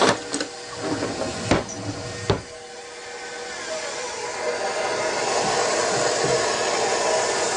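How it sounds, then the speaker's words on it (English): Electric mixer beating butter and sugar for white chocolate macadamia nut cookies, a few knocks against the bowl at first, then a steady close whirring motor drone that grows slightly louder. "I want to get this butter and sugar mixture down here, get it to mix up a little bit better."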